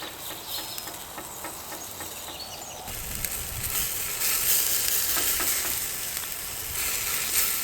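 Turkey burger patties sizzle steadily in a hot pan, and the frying hiss swells louder and fuller once thick soy sauce is poured in partway through, with no voices.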